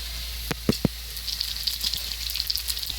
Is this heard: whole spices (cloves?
yes